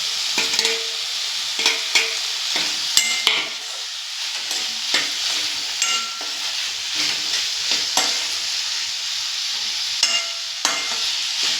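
Okra coated in a ground coconut, green chili and ginger masala with tomato is stir-fried in a pan, a steady sizzle broken by repeated scraping strokes of a spoon at an uneven rhythm, close up and without speech.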